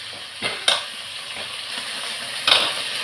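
Vegetables and tomato sautéing in oil left over from frying cauliflower, a steady sizzle with a few louder scraping stirs of the spoon against the pan, close and alone.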